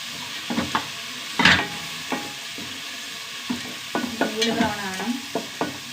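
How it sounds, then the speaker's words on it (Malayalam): Green chillies and finely chopped garlic sizzle in a hot pan as a spoon stirs them, giving scattered close scrapes and clinks over a steady frying hiss, with no talking. "രണ്ട് പച്ചമുളക് ആറേഴ് അടി വെളുത്തുള്ളി ചെറുതാക്കി അരിഞ്ഞത്"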